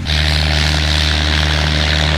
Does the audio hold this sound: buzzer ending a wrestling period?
no